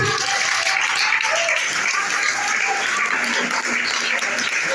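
A church congregation at a worship service claps loudly and continuously, dense applause filling the room with a low hum faintly beneath.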